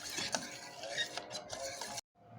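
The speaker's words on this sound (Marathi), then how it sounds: "जोपर्यंत फेस निघत नाही तोपर्यंत मिक्स करत राहायचं।" A spoon stirs a liquid mixture steadily until it turns frothy, giving quiet, continuous swishing and light clinking up close for about two seconds before it stops abruptly.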